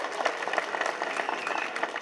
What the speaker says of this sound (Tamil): இதுலேயே பாதி பேர் தான் தட்டியிருக்கீங்க.